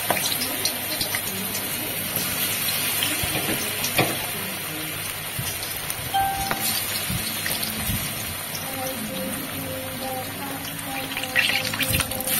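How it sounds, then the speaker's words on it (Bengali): Shapla (water lily) flower fritters frying in hot refined oil in a pan on a gas stove, a steady close hiss and crackle of bubbling oil running throughout with scattered small pops. "তেলটা গরম হয়ে গেছে, এবার এক এক করে ফুলগুলো আমি দিয়ে দেব।"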